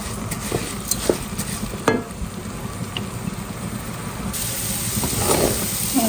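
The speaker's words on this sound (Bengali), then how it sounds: "তো চাল দিয়ে দিচ্ছি। তো এখন এটাকে ভাজা ভাজা করে নেব" Pulao rice being fried in a pan before water goes in, continuous sizzle and hiss with periodic stirring scrapes, growing slightly louder toward the end.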